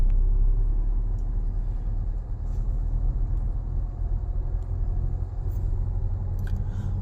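A personal car driven by a beginner pulls along under gentle acceleration, giving a steady, low engine and road rumble heard from inside the cabin at moderate volume, with no talking.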